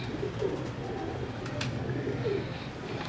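Faint, soft pigeon coos, probably from old kamgar pigeons, recur a few times over a low steady background hum with no talking.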